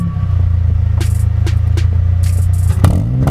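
Honda Civic exhaust with the baffles gone, a loud, raspy idle rumble that pulses steadily and close up, with a few sharp blips and pops breaking through.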